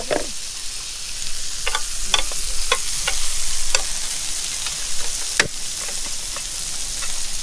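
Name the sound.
steak scraps frying and stirred into kimchi rice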